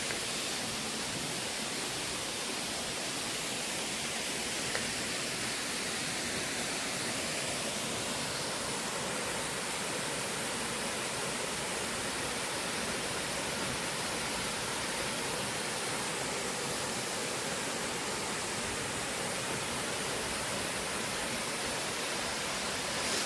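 Jaein Waterfall in Yeoncheon, rushing water falling into the pool below, a steady, unbroken broadband roar that stays even and fairly loud throughout with no voices.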